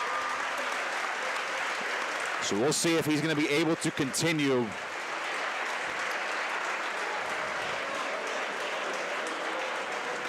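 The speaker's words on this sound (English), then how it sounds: "he gets a nice round of applause from both sets of fans" A crowd at a high school wrestling playoff applauds an injured wrestler from both sides of the gym, a broad, steady wash of clapping under a commentator's voice, with a brief loud tonal burst partway through.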